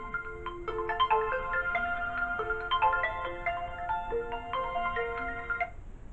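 A mobile phone rings with a bright, repeating melodic ringtone of stacked tones, steady and moderately loud for about six seconds, then cuts off abruptly near the end.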